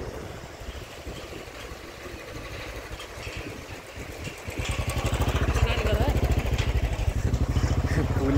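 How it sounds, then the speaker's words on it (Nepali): A motorcycle approaches on a mountain road, its engine thrumming in from about halfway through and growing steadily louder and closer, with people talking over the background. "बाइक आइरहेको रहेछ।"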